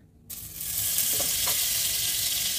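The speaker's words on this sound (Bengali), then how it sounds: "এবার আমি কড়াটা গরম করতে দিয়েছি, এতে আমি দিয়ে দেবো 1 চামচ মতো বাটার।" A spoonful of butter drops into a hot wok and breaks into a bright, steady sizzle that quickly swells and then holds, close and loud.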